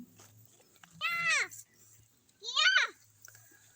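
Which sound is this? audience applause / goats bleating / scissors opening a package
goats bleating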